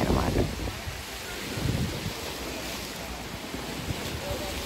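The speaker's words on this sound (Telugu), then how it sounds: "బ్లూయిష్గా అలలు, చిన్న చిన్న అలలు" Small ripples lapping on clear, shallow lake water over visible stones in Waterton National Park, Canada, a soft steady wash of surf mixed with wind across the microphone, with no voices.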